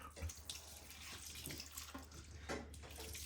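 Mangalitsa pancetta being rinsed in wine, a steady splashing and trickling of liquid running throughout with a few louder pours and drips, close and continuous, with no talking.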